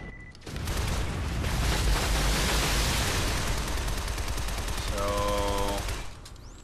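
Sustained rapid gunfire from the video game Shadow Complex, loud and dense with a continuous rattle lasting several seconds before cutting off, with a brief electronic tone near the end.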